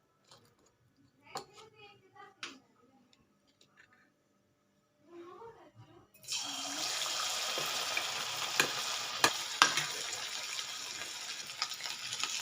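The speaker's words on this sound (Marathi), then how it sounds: "तर फ्रेंड्स, आता तेल तापलेलं आहे। आता आपण ह्यात पीस सोडूया।" Pieces of chicken 65 drop into hot oil in a kadhai and it bursts into a loud, sustained sizzle with a few sharp spatters. Before that come a few quiet handling clicks and thuds.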